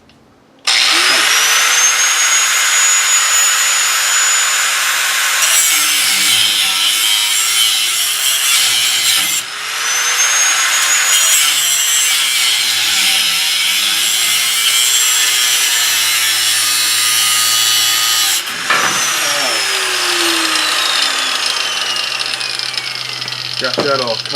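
Power saw cutting steel for a steering shaft install on a 1966 Chevy C20 pickup, a loud continuous whining grind with brief pauses and restarts, and someone talking now and then over it.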